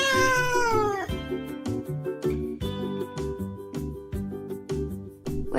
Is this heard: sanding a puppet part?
no